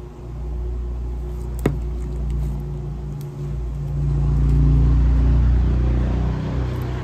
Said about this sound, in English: Apologize for the traffic, it's rush hour.